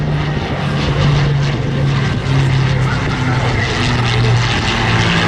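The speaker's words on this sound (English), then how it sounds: "The Hurricane today, the station commander, Captain Matt Peterson. Following up in the Lanc, Flight Lieutenant Ernie Wise in command tod" Hurricane and Lancaster warplanes fly over the Southport Airshow, their propeller engines making a loud, sustained droning roar that swells and eases as they pass, with commentary faintly beneath.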